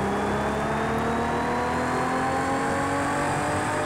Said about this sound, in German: Auch mit dicker V8-Power, genauso wie der Ford. Und mit einer sehr beeindruckenden Auspuffanlage da hinten.